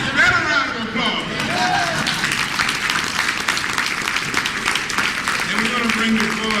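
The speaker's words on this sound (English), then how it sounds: "Better round of applause." A hotel conference crowd gives a round of applause, sustained clapping from many hands with a few voices and cheers mixed in, fairly close and lively.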